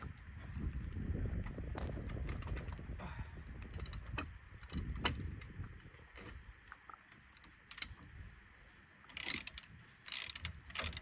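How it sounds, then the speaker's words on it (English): A flexi head ratchet works an 18mm caliper carrier bolt on a Renault Clio Mk2, giving a run of quick, close metallic clicks and ratcheting pawl strokes in uneven bursts, with a few faint knocks between. "this flexi head ratchet's quite useful for doing this"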